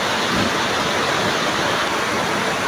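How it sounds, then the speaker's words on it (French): Steady rain falling outdoors in Gabon, a dense, even hiss that holds constant throughout with no voices over it. "Voilà pourquoi il pleut là."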